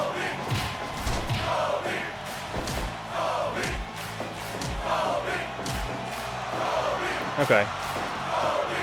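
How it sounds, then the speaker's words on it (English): A crowd chant effect plays for a wrestling show in a home garage setting, a steady roaring crowd with rhythmic shouts and occasional thuds running throughout, with a brief spoken word over it. "you could not hear the crowd chant that I played"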